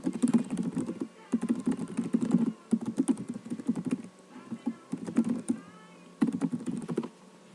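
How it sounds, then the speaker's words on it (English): Someone types on a computer keyboard in quick irregular bursts of clicking keys, broken by short pauses, close up in a quiet room. "You can hear my typing"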